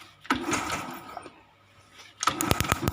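A motorcycle engine is started after the ignition key is turned on, with a rough mechanical burst near the start, a quieter lull, then a second sputtering, rattling burst toward the end, close and fairly loud.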